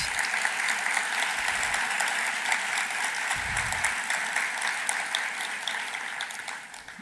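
A seated audience applauds a Blue Ribbon design jury at a winning-team announcement, steady, dense clapping filling the room and slowly tapering toward the end.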